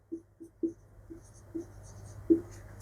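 A teacher writes on a board during a chemistry lesson, a series of short scratchy taps and strokes at an uneven pace, close and fairly quiet with no talk over them.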